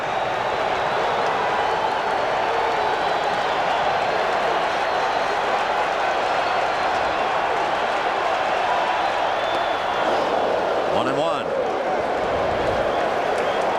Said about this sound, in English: if you like crowd noise, if it does something to you, you come to the right place and at the right time